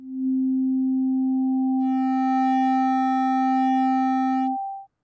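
Two synthesized tones sound together: a pure low sine tone holds steadily for over four seconds, joined partway through by a brighter, buzzier tone rich in overtones, both stopping abruptly with no talking.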